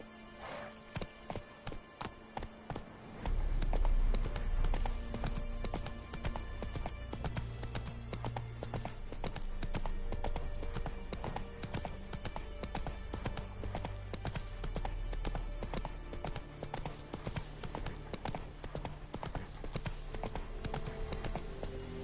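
A horse galloping in the video game The Witcher 3: quick, rhythmic hoofbeats play clearly over a dense, steady wash of game ambience and music, with a few isolated clops before the run picks up.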